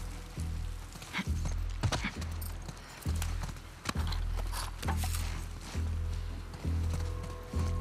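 Horse hooves clip-clop in a steady, repeating rhythm with a whinny in the video game The Last of Us Part II, close and prominent, with brief splashy noise in between.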